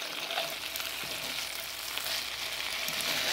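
Smothered potatoes frying in a pan, a constant close hiss and sizzle with faint stirring, no voices.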